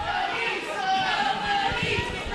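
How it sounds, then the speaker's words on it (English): Wrestling crowd cheering for Cash Flo at an indoor match, a steady murmuring roar of many voices with scattered shouts, loud and sustained, with a commentator's voice running over it. "here's a crowd getting behind Cash Flow"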